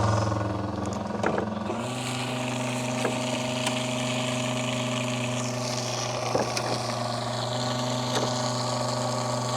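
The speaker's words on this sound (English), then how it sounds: "now it pumps fuel. So let's fill up the mower." A BreAro 12V electric fuel pump starts up and runs steadily while transferring fuel into a mower, a continuous motor whine and hum holding close and even with faint clicks and liquid movement.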